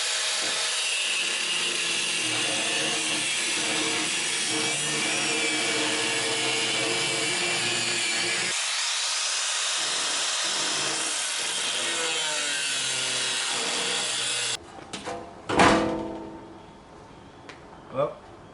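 Power saw cutting off the metal wheel guards of a camper trailer, a steady loud rasping grind that runs for about fourteen seconds and then stops, leaving a few clanks and a brief voice.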